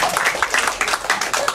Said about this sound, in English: How about a big round of applause for J-Lo